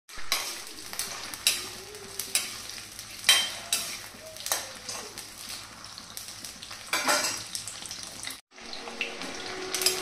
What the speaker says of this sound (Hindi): सबसे पहले हम घी में डालेंगे आलू और आलू को फ्राई कर लेंगे।